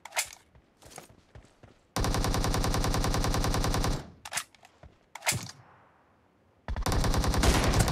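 Gunfire in the video game PUBG, with loud sustained bursts of rapid automatic fire alternating with a few single sharp shots and brief quiet gaps, close and punchy.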